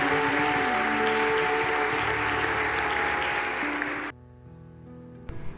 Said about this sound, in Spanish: Levantemos una ofrenda de aplausos a nuestro Señor.